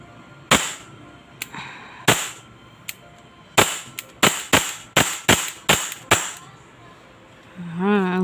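An EMG John Wick 3 Island Barrel airsoft pistol fires a string of loud, sharp snapping shots up close, first spaced out and then in a faster run, ending with a rising mechanical whine.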